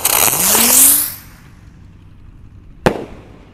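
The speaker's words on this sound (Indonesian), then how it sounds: "kita ulangi sekali lagi ya mercon Ski Cruisernya" Ski Cruiser firework launching with a rising whistling whoosh that fades as it climbs, followed after a pause by a single sharp pop of the burst.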